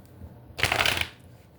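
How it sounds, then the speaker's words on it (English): A deck of tarot cards is shuffled with one quick, close riffle, a loud papery fluttering burst lasting about half a second, heard alone. "we're going to do 3 shuffles"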